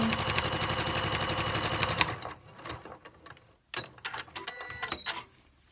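A sewing machine fitted with a walking foot stitches a quilt in a fast, steady mechanical chatter for about two seconds, then stops and starts in short bursts with clicks and handling noises between, close up.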